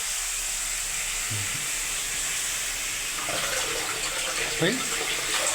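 Water runs steadily into a pan with a constant close rush, while people talk over the flow toward the end.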